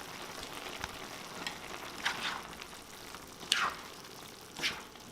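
Creamy pasta sauce in a pan is stirred, giving a soft steady sizzle with occasional scraping strokes of the spoon, close and fairly quiet with no talk.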